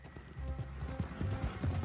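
Horse hooves clip-clop in a steady trotting rhythm in Red Dead Redemption 2, fairly close and moderately loud, with faint game ambience and no talk.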